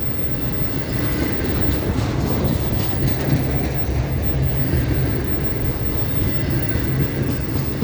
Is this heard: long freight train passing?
yes